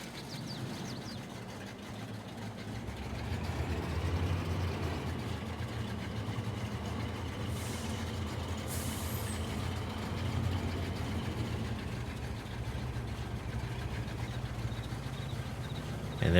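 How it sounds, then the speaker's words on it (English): A truck engine in the Farming Simulator video game drones steadily for the whole stretch, a constant mid-pitched rumble with no pauses and no voices. "Now we'll go get the truck"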